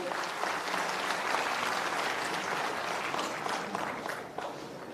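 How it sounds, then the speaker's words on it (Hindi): A seated audience gives steady, full clapping to welcome a government minister at a cooperative bank inauguration ceremony in Uttar Pradesh, sustained and even throughout with no talk. "जोरदार तालियों से स्वागत हो।"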